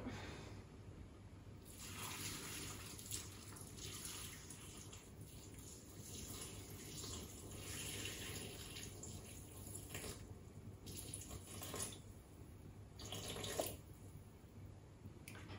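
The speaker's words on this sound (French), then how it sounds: "Je vais mettre mes 720 g de bouillon." 720 g of stock poured into a Cooking Chef mixer bowl for a vegetable risotto, a soft continuous stream of liquid with a few louder gushes and splashes, close and fairly quiet, with no talking.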